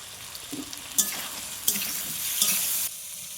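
Green chillies drop into a hot pan of frying vegetables, bursting into a loud close sizzle with sharp hissing flares and stirring scrapes, then cutting off abruptly.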